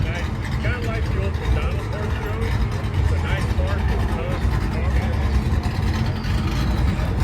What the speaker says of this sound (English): Oh, this old truck sounds good.